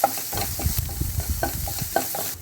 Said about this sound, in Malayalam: അതുപോലെ തന്നെ ഉള്ളി ചോപ്പ് ചെയ്തതും കൂടി നമുക്കിട്ട് സോട്ട് ചെയ്യാം.